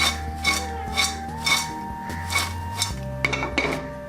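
A pan of popcorn dusted with chaat masala being shaken: rhythmic rattling and scraping strokes, roughly two per second, close and moderately loud over a low steady hum, with no talk.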